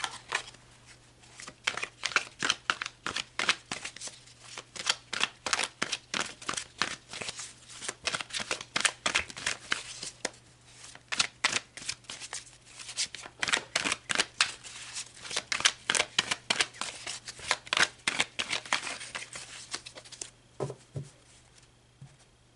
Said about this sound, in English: All right, let's pull some tarot cards.